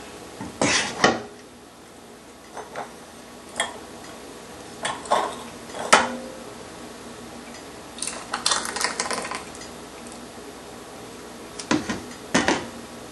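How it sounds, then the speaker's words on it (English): Metal canning lids and rings are pulled off with sharp clinks and clatters in scattered bursts, close and distinct against a quiet kitchen background. "Pull my lids and rings off."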